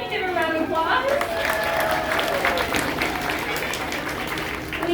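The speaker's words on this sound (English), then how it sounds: "Give her a round of applause." A zoo audience gives a round of applause at an elephant conservation talk, a steady crowd clapping that carries on as a voice speaks over it at the start.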